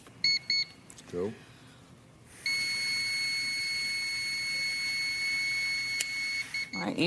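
A steady electronic beep holds one high pitch for several seconds, preceded by a few short chirps and a brief voice.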